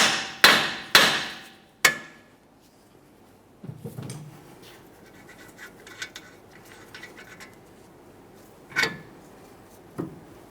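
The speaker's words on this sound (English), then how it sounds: "we can go ahead and use a hammer and we'll tap on the steering knuckle, causing vibration, and it should shake it free" A hammer strikes a steering knuckle on a Toyota Sienna, sharp metallic taps: four quick blows, then quiet shop handling and two more separate hits later on.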